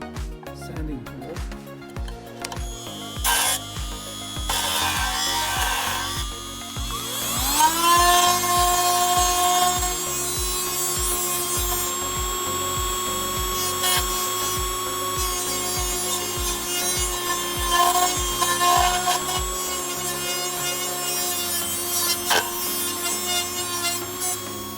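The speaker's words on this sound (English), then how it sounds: "Sanding tool." A WORKPRO 12V cordless rotary tool sands wood, its motor whining up to a steady high pitch with a rough, grinding rasp against the surface that continues throughout, close up and fairly loud.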